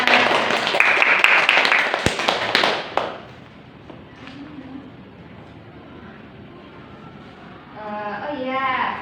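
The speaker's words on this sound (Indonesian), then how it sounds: "tepuk tangan buat kita semua" A classroom of students bursts into loud, dense clapping that lasts about three seconds, then fades into quieter room noise before voices start talking.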